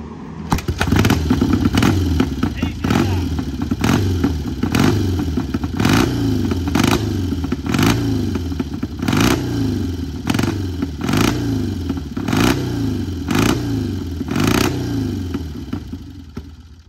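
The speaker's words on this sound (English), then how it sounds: "I'm going to start this bike." A Triumph scrambler motorcycle engine fires up and runs at a rough, throbbing idle with steady pulsing beats and occasional rev swells, close by and loud.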